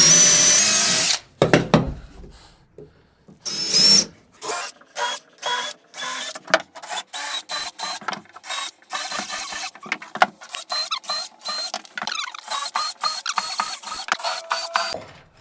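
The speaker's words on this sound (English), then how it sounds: "get these drilled all out and start running the timber locks in" Power drill driving long timber lock screws into plywood while building a large 8x12 wooden deer blind, in repeated short bursts of whirring with brief pauses between them, close and fairly loud with no talking.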